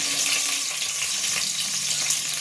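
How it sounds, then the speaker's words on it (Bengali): Chopped onion hitting hot oil in a pan, giving a loud, continuous close-up sizzle and crackle with no voices. "মোর তেল গরম হয়ে গেছে মুই এই পেঁয়াজ কুচাই রাখছিলাম পেঁয়াজ নিয়ে দিয়ে দিলাম"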